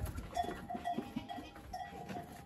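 A herd of goats with small young kids moves about near the listener while cowbells clank in an irregular rhythm, with scattered bleats mixed among the steady jangling.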